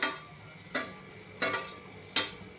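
Crushed ginger and garlic going into Manchurian sauce in a pan, with three or four sharp scraping stirs at steady intervals over a low background sizzle, close and clear, no talking.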